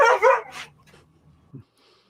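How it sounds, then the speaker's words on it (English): A dog gives a couple of sharp barks at the end of a music track, followed by a few faint yips and a softer whimper fading into quiet. "I love the dog barking at the end."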